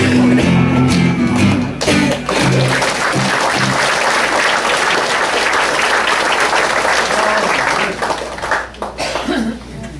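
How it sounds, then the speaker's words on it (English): Live audience clapping at a music show, a dense, loud wash of applause with a few coughs, sustained for most of the stretch and thinning out near the end, with a voice at the start. "I noticed the guys were clapping harder than the women."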